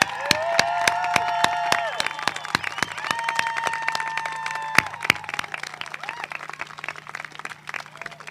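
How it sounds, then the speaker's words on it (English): An audience at a 2021 college graduation ceremony applauds its graduates with sustained, dense clapping and scattered sharp claps that gradually thin out and fade over several seconds. "give a round of applause to our graduates here"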